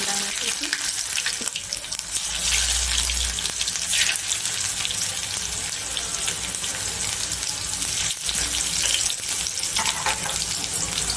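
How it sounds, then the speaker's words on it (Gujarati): Mustard seeds and cumin crackle and fry steadily in hot oil in a kadai while spices go into a Kathiawadi-style sweet corn masala, with a brief low thump near the start of the continuous close sizzle. "તેલ ગરમ થઈ ગયું છે તો રાઈ નાખીશું જીરું નાખીશું"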